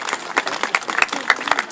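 An audience at a bullfighting tentadero applauds with a brief burst of scattered, fairly close hand claps, irregular and lively over a couple of seconds.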